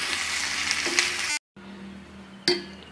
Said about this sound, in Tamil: சிம்மிலே வச்சு இது நல்லா வதக்கணும்.